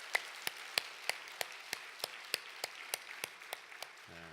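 A church congregation claps in unison, about a dozen crisp, evenly spaced claps in a steady rhythm, heard quietly from some distance with no talk over them.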